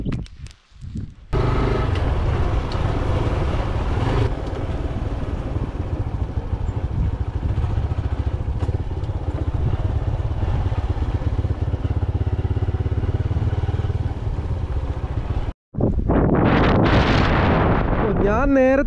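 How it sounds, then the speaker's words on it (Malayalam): Steady motorcycle engine drone and heavy wind buffeting fill a ride toward a hilltop viewpoint at Vagamon, continuous and close, cutting out briefly near the end before resuming. "ബൈക്കിലാണ് യാത്ര ചെയ്യുന്നത്"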